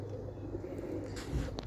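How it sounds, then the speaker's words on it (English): Roller pigeons in a loft coo softly at a moderate distance, with low rolling calls and a brief flutter near the end, and no one speaking. "I'm going to continue feeding the birds and get everything ready."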